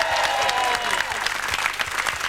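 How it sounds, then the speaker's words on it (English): Studio audience applauding at the end of a cooking segment on a TV lunch show, dense steady clapping at fairly close range for the whole stretch, with faint voices underneath. "Round of applause."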